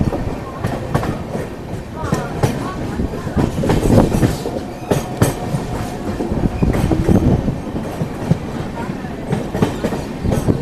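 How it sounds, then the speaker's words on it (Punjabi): The Amritsar Fast Express pulls out of platform one, rumbling along with rhythmic clickety-clack from the wheels over rail joints, loud and close, with some voices faintly mixed in. "ਹੁਣ ਟ੍ਰੇਨ ਆਪਣੀ ਇੱਕ ਨੰਬਰ ਪਲੇਟਫਾਰਮ ਤੋਂ ਰਵਾਨਾ ਹੋ ਚੁੱਕੀ ਹੈ"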